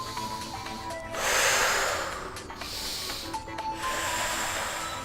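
During a thigh-focused fitness class warm-up, a long, forceful breath is blown out close to the microphone, followed by softer breathing over faint background tones, no talk.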